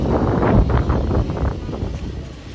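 Gusty wind buffets the microphone on the Disney cruise line's Lookout Cay island beach, with a steady low rumble that swells and eases over a couple of seconds and no talking.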